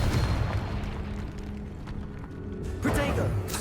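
Confringo blasting spell explosions in Hogwarts Legacy, a loud burst at the start and another near the end over a constant rumbling combat din, with a voice talking in between.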